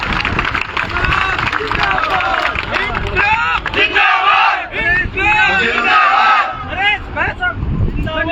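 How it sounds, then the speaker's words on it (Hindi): A large outdoor political rally crowd in a memorial park in Jaipur erupts in loud cheering, chanting and clapping, a dense roaring mass of voices with shouts rising and falling, close and continuous throughout. "जोरदार तालियों के साथ स्वागत करें।"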